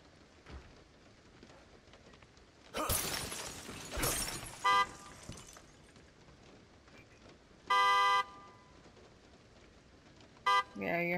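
A car horn honks in two loud, sustained blasts a few seconds apart, followed by a short toot, over a quiet background with brief bursts of rushing noise and some talk.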